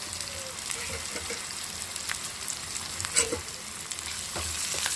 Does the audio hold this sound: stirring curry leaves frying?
yes